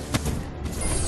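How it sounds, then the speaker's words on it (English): Gunfire in the Paladins Strike video game during a fight with the new champion Tyra: a steady dense rattle of shots with a sharper burst near the start, loud and continuous throughout. "Just shooting everything here."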